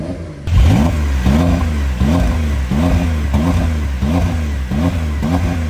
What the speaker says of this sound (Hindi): स्पोर्ट्स प्लस में अगर तुम कर दो तो अब गाड़ी पूरी तरीके से फुल्ली स्पोर्ट मोड में खुद ही देखना आरपीएम एकदम से क्रेजी चल जाएगी और आवाज़ भी तुम सुनो